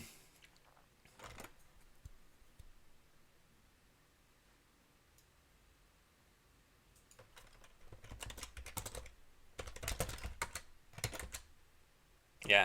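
Typing on a mechanical keyboard fitted with O-ring dampeners: a few isolated keystrokes early, then dense bursts of muted clacking later, moderately close and fairly quiet, with no voices.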